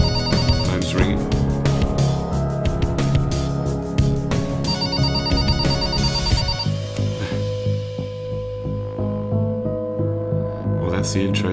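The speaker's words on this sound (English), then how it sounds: "Phone's ringing." A telephone rings in the opening of the game Monitor, an electronic trilling ring repeating over a low droning hum and tonal ambience, with a voice talking over parts of it.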